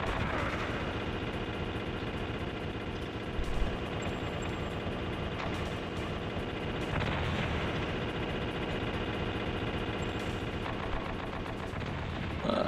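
Grenade blasts and gunfire in a video game, a steady dense barrage of booming explosions and rattling shots with a few sharper bursts standing out.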